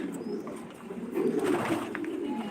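Pigeons coo at a pigeon farm in Senbag, Noakhali, a steady low warbling chorus that swells midway and stays fairly close, with no talk over it.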